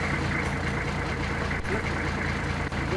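A vehicle engine runs steadily, a loud continuous rumble through the whole stretch, with no break and no voices over it.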